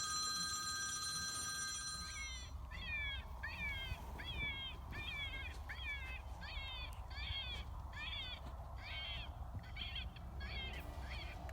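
A phone rings in short, evenly spaced electronic bursts during a coyote predator hunt outdoors, a steady repeating trill over low background rumble with no talking.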